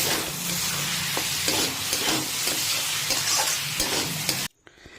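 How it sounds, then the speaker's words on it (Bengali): Sliced tomatoes hit a pan of frying garlic, setting off a steady close sizzle with repeated stirring scrapes, cutting off abruptly near the end; no one speaks. "এই সময়তে আমরা এখানে স্লাইস করে কেটে রাখা টমেটো এর মধ্যে দিয়ে দিলাম"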